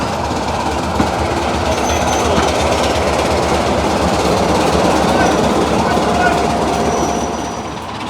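Heritage diesel locomotive 33025 at Swanage station during the Swanage Railway Diesel Gala, a steady loud rumble of engine and rolling stock lasting throughout, with faint squeal and clatter before it eases off at the end.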